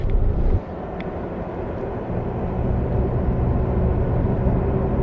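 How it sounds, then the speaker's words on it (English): Road noise inside the cabin of a Toyota Tacoma on General Grabber ATx all-terrain tires at about 30 mph: a steady low rumble and drone, with a brief louder bump at the start and no talking. "we're going around 30 miles an hour, and this is what it sounds like inside the cabin of the vehicle"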